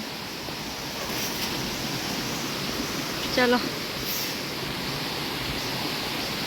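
A waterfall in a rainy-season forest near Deojhar, Odisha, pours as a steady broadband roar that fills the whole stretch evenly, with a single short spoken word breaking in briefly near the middle.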